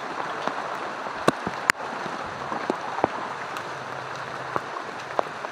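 A strong, fast river current rushes steadily and loudly, a dense unbroken wash of flowing water with a few faint knocks and ticks over it.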